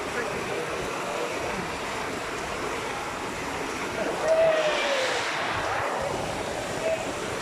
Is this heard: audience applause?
no